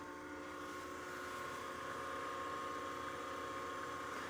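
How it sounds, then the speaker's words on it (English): Wood lathe turning a bowl at about 1300 RPM, producing a faint, steady motor hum with a constant tone throughout. "So turn the lathe on."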